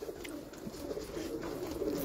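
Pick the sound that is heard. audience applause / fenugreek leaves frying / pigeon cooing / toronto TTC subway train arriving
pigeon cooing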